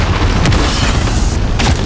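A cruise missile explosion in Call of Duty: Modern Warfare multiplayer, a loud, sustained low boom rumbling close by for nearly two seconds with a brief burst partway through.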